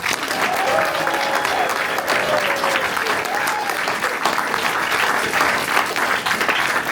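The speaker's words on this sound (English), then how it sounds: "So we're gonna start with applause on the count of three." Studio audience applause at a radio station live music session in Akron, Ohio, dense and continuous clapping with some cheering, loud and sustained, with a faint voice briefly audible beneath.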